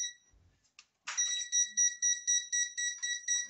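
A homemade bike remote-control alarm sounds in sharp, high electronic beeps, a rapid steady series of loud pulses after a few brief clicks, alone and close.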